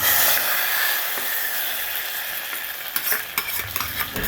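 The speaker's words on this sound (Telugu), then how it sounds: "ఈ పోపుని ఇందులో వేసేసేయండి." Hot ghee tempering poured into a pot of sambar, a loud steady hiss and sizzle heard up close that gradually settles, followed by a few light stirring knocks and scrapes toward the end.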